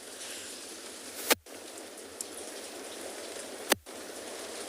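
Steady rain falls on a wildlife enclosure at a penguin beach, a soft continuous patter with two brief sharp bumps near the microphone, no voices.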